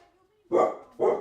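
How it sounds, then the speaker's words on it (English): A dog lets out two short, loud barks close by, separated by a brief pause, with a faint tone beforehand. "Is that a dog making a weird noise?"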